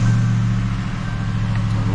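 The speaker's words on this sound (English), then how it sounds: "let's cold start it and see how it runs" A car that has sat unused for a couple of weeks idles close by just after a cold start, a steady low engine rumble holding evenly throughout with no voices.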